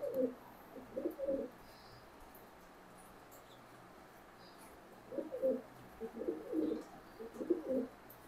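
Baby racer pigeons give soft, low coos in two clusters separated by a quiet stretch, close but faint against a hushed room.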